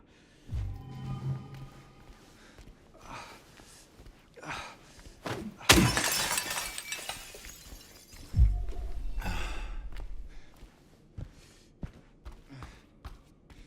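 Glass cabinet smashed in the video game Silent Hill 2: a sharp crash with a bright shattering burst midway, then a heavy thud and lingering rumble, among scattered quieter game thumps and footsteps.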